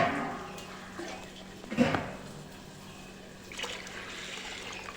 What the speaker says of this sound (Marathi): आता दुसरं पाणी ओतून ठेवणार तांदळात